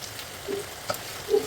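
Sliced onions dropped into hot oil with curry leaves, ginger and garlic, sautéing with a steady close sizzle and a few faint scraping clicks from the pan.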